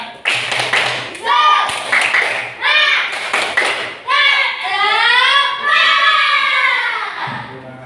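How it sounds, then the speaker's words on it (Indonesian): Classroom children perform a rhythmic spirit clap, bursts of sharp taps and claps in a patterned sequence mixed with their chanting voices, loud and close. "Boleh tepuk semangat dulu."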